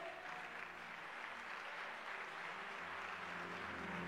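A church congregation applauding and cheering for Jesus during a sermon, with sustained, dense clapping from a full room filling the whole stretch at an even level.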